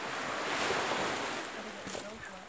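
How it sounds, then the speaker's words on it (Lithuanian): Sea waves washing onto the shore in a steady broadband roar, with gusts of wind buffeting the microphone throughout. "Tikra jūra."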